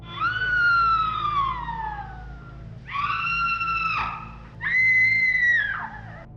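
Fay Wray's scream from the film King Kong, three long, piercing, high-pitched female shrieks. The first slides downward, and each one is loud and held over a low background hum.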